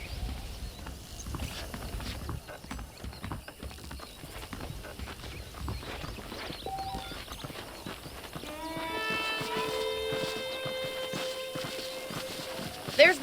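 Horse hooves clip-clopping in the Western video game Red Dead Redemption, a steady walking rhythm of soft hoof beats under ambient game sound and music, with a voice speaking over part of it.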